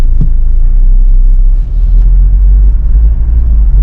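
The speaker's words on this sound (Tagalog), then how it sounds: "Maraming sasakyan, no?" Busy road traffic with cars and blue taxis passing near Clark, Pampanga, a loud continuous low engine rumble close by with occasional louder vehicle swells and no talking.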